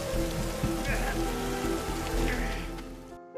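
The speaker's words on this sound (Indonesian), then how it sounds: "Perjalanan menuju ke atas tidaklah mudah, apalagi dengan diguyur derasnya hujan." Heavy rain pours steadily in a thick, loud wash of drops with low rumbling underneath, continuing for over three seconds before cutting off abruptly.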